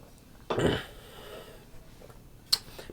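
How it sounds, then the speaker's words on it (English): A man clears his throat once, a short close burst of rough vocal noise, followed by quiet room tone and a faint brief click near the end. "Sorry, just clearing my throat here."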